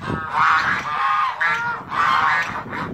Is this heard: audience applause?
no